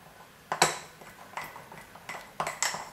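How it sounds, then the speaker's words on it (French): A utensil stirs sourdough starter of water and wholemeal flour in a container, giving a series of close, bright clinks and scrapes in an irregular rhythm, alone without talk. "Donc je remue bien"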